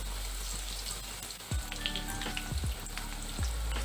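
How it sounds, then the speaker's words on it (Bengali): Quiet, steady sizzle of potatoes frying in a pan, with a few soft clacks of a utensil near the middle and end. "আলুগুলো ভেজে নেবো"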